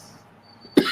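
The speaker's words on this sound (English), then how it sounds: "Sorry, cough." After near silence, a single short cough bursts out abruptly at the end, close and fairly loud.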